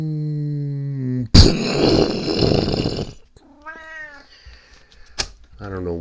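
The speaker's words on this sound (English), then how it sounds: "every time I start talking to the computer, this cat has to start meowing" A house cat meows loudly and repeatedly close by, with a drawn-out cry, a sharp noisy burst and several shorter mews, interleaved with a voice speaking.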